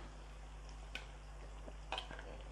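Beef fries in groundnut oil with a quiet, steady hiss under a low hum, with a couple of brief clinks and scrapes as it is stirred in the pan.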